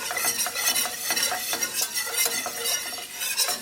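Butter frying in a pan under steady stirring, a continuous sizzle with repeated scraping and light clinking of a utensil, close and fairly loud.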